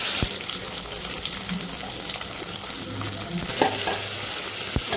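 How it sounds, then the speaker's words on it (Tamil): Fenugreek seeds fry in hot oil for a village-style sundakkai kara kuzhambu, giving a steady, close, dense sizzle with occasional stirring scrapes and no speech. "வெந்தயம் பொரியணும்"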